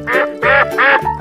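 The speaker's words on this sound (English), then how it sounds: "Duck." Three loud, nasal duck quacks follow one another in a steady rhythm, each drawn out and close up, with a shorter fourth call starting at the end, in a run of animal sounds at a fountain crossing.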